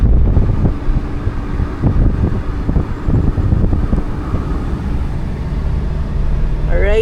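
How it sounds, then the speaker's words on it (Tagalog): Wind rushes steadily over the microphone of a moving ride through a drizzly road on a Lalamove delivery day, a loud, continuous low rumble with traffic-like noise beneath and no talk. "sarap ng hangin"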